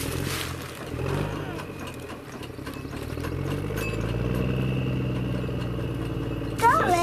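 A steady excavator engine idles with a low, continuous rumble close by while children and an adult talk over it, ending in a brief sharper mechanical sound.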